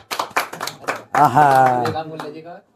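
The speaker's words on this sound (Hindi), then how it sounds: "भाई के लिए एक बार जोरदार ताली।" A few quick, sharp claps from an audience at a lively business gathering, followed by a loud sustained voice.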